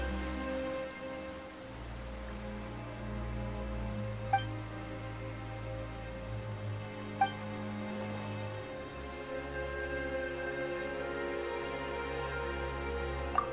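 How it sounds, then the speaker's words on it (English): Steady rain falling in the video game Genshin Impact, a continuous even patter with a few faint drip-like ticks, heard alone over a low background music bed. "Why is it raining all of a sudden?"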